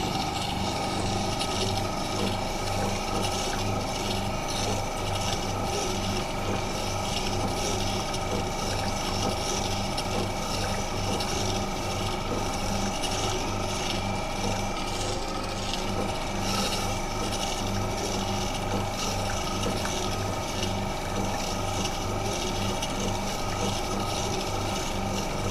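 A steel chisel blade rubs side to side on a sharpening stone or grinder in a woodworking shop, a continuous dense rasping scrape that runs steadily and evenly, close and fairly loud, without pause.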